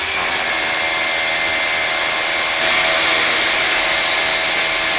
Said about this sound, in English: You go down and just go right through the concrete like that.